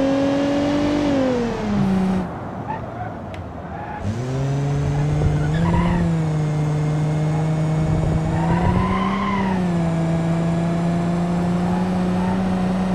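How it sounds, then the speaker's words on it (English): A sedan in BeamNG.drive launching with tires skidding and squealing, its engine droning loud and close, pitch stepping through gear changes with sustained tire screech across the run. "I like the skidding start there."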